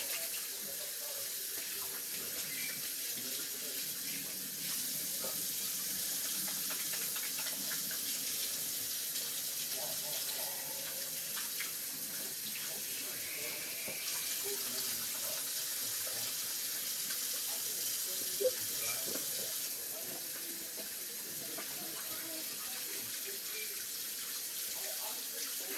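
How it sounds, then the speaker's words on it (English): Water runs from a kitchen tap as hands are washed. The hiss is soft and steady and continues with little change throughout. "I'm gonna wash my hands."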